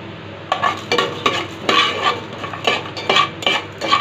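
Spices frying and being stirred in a pan over a low flame for a village-style chicken dish, with about eight scraping stir strokes rising over a steady soft sizzle.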